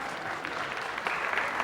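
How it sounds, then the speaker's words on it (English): Audience applause at a Know Love Know Power 2008 show, a dense steady wash of clapping hands that swells slightly louder in the second half, with a faint voice murmuring underneath. "they're applauding to give us money"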